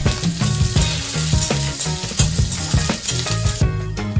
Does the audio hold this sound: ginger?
yes